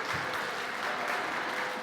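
Brief, steady applause with scattered cheering from an audience welcoming presenters at a conference, dense clapping filling the room without pause.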